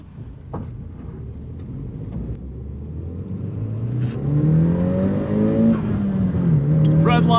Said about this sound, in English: Very turbocharged engine. You get all the whooshes, the whistles, and of course that glorious flutter as well.